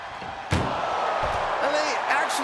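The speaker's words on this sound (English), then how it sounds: "Trying to at least slam one door shut." An ambulance door is slammed shut during a wrestling ambulance match: one sharp, loud bang rises above a steady crowd roar and a commentator's voice, with scattered thuds and cheers following.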